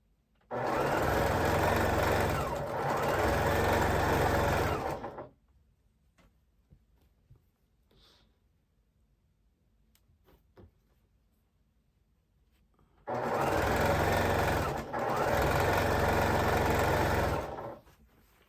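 A sewing machine stitches scrap quilt pieces in two loud, steady runs of about five seconds each, with a quiet pause of rustling and fabric handling between them and no talking.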